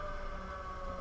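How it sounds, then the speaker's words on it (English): A steady, sustained emergency weather siren drone holds at a constant level throughout, with no talking over it. "those are the emergency weather sirens"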